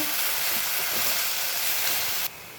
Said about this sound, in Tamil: புதினா இலையை சேர்த்துட்டு இதுவும் வந்து நல்லா வந்து வதக்கிக்கலாங்க